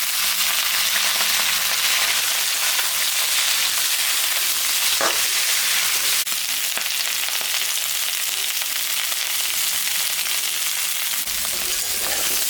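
Potatoes and drumstick pieces fry in a pan with a steady, dense sizzling hiss that runs unbroken for about twelve seconds. Faint stirring clicks sound now and then, and no one speaks.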